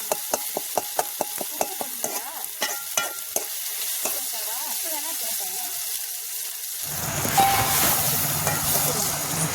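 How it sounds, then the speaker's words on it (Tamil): A spoon scrapes and stirs prawn gravy in a frying pan in quick rhythmic strokes, then a loud steady sizzle takes over, close, with a voice speaking briefly. "நல்லா கிண்டி விட்டுக்கலாம்."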